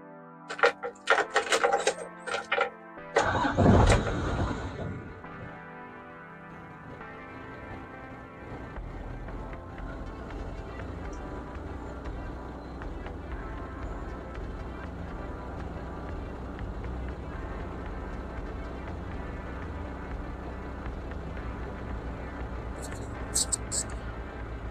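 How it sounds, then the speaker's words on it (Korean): A 5-ton mid-axle cargo truck with about 87,000 km on it idles steadily as a smooth, even, low engine drone, after a few brief clattering knocks at the start. "엔진 소리 한번 들어보겠습니다."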